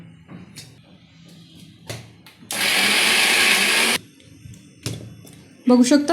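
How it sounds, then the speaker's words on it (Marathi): A mixer grinder blends chili, ginger, coriander and onion into a paste in a loud, even whir of about one and a half seconds, with someone talking before and after and short clattering knocks around it. "कोथिंबीर आणि लास्ट कांदा आता याचं आपण एकत्रित वाटण करून घेऊया"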